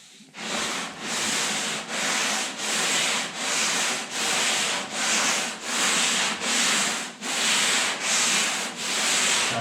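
Hand sanding a car body panel with 80 grit paper on a short Durablock, a rhythmic series of about a dozen rough, raspy back-and-forth strokes, close and loud with brief pauses between each pass.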